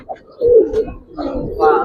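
A female pigeon of a fancy breed coos close by, two soft, rolling coos in quick succession.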